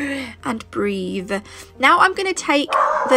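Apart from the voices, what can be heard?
dog barking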